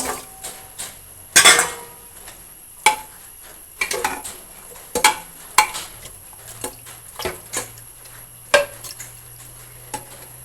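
Chicken is stirred with salt in a pot over a wood fire, a series of sharp metallic clanks and scrapes of a spoon against the vessel at an irregular rhythm, close and loud.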